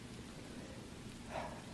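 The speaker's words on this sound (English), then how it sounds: "I do like the rain though." Rain falls as a soft, constant hiss with no other sounds, steady and faint throughout the short stretch.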